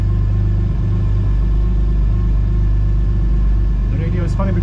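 Porsche GT4 race car engine idling as a steady low rumble close by, with people talking over it throughout.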